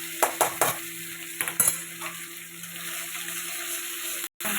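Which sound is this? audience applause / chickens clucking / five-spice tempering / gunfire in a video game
five-spice tempering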